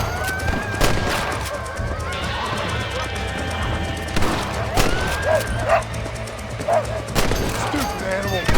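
In Red Dead Redemption, several sharp gunshots crack at irregular intervals amid dogs barking and whimpering, with a faint musical drone behind.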